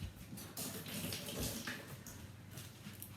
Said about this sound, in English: Next thing I'm gonna do is rinse off my knife.